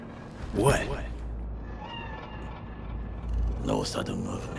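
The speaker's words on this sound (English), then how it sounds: "Do you see it? That cat? Fine-looking feline." A cat in the video game Cyberpunk 2077 gives two clear meows a few seconds apart, with a low vehicle hum underneath and faint voices talking in between.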